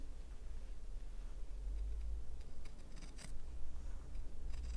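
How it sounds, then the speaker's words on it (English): Scissors snipping a piece of cotton wick for a Wotofo SMRT PnP rebuildable mesh vape coil, a few faint close snips over a steady low background hum. "So I'm just going to go ahead and cut a piece."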